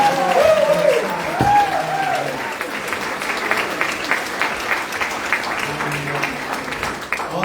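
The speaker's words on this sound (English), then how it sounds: "I think she deserves a huge round of applause" Sustained audience applause at a Carlow Restaurant Week hotel event, with a brief burst of voices at the start before even, continuous clapping fills the room.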